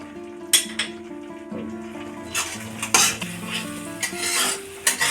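A spoon stirs and scrapes spice masala sautéing in a pan for rui posto, with metallic clinks and knocks over a soft sizzle, close and unhurried, no talking.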